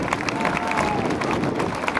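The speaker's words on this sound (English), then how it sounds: "give a big round of applause for Mr. Bill Leff" Airshow crowd applauding a performer introduced as Bill Leff at the 2012 NAS Oceana Airshow, a steady dense wash of outdoor clapping heard at a distance, continuous for the whole stretch.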